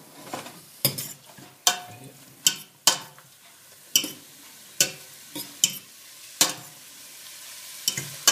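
Chicken colombo sauce with potatoes stirred while cooking: a spoon clacks and scrapes against the pot in irregular strokes over a faint sizzle, close and with no talking.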